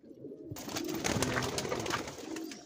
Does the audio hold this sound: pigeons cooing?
yes